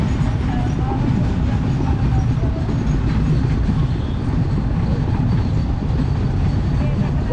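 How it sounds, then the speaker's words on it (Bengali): A freight train rolls along the Kuril railway line in Dhaka, producing a continuous close rumble with rhythmic clattering wheels throughout. "সেই রেল লাইন যে ট্রেন যাইতেছে একটা, সম্ভবত মালামাল যাইতেছে এই ট্রেন"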